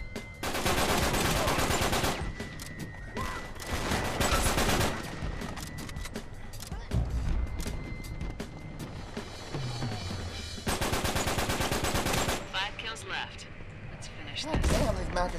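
Rapid automatic gunfire and bursts of shots from the video game Uncharted 3, dense and loud throughout, mixed with game music and effects while players talk over it.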